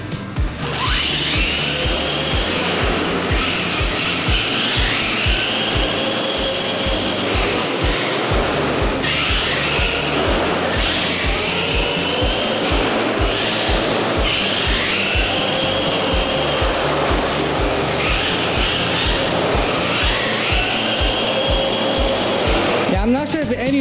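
An Axial Bomber RR10 RC car with dual-stage air-filled tires drives on pavement, its electric motor whining continuously and rising and falling as it accelerates, with rhythmic tire and drivetrain chatter underneath.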